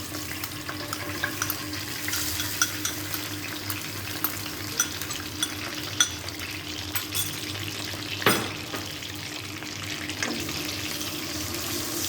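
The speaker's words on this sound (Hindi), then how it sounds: "ऑयल गरम हो गया है, हम इसमें डालेंगे अब 2 चम्मच लहसुन अदरक का पेस्ट।" Steady, close sizzling and crackling of garlic ginger paste frying in hot oil for chicken karahi, with a brief scrape of stirring partway through and no voices.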